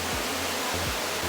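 A waterfall roars as a constant, dense wash of falling water, loud and unbroken for the whole moment, with a low rumble beneath and no voices.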